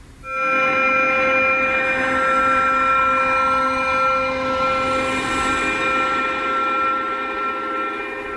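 A steady, sustained drone sampled from a Korg Modwave synthesizer, holding one bright, whistle-like chord at a constant level for several seconds with a slow swell in the upper tones and no voices.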